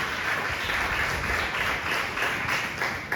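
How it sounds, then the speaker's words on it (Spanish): Worshippers at a church sermon give a loud round of applause, the clapping full and continuous, with a faintly pulsing rhythm running through it. "Denle otro fuerte aplauso al Señor Jesucristo."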